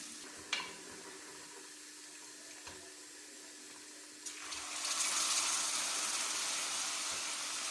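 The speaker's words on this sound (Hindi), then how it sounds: "जैसे ही गर्म होगा तो इसके अंदर मैंने लहसुन अदरक का पेस्ट डाल के उसको सौते करना है।" Garlic ginger paste hits hot cooking oil for a desi beef kadai. After a quiet stretch broken by a few light clicks, a sudden steady sizzling hiss rises and keeps going.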